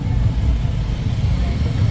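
Cars sit stuck in a traffic jam caused by a palkhi procession, with a steady, close low rumble of idling engines and no clear individual pass-by.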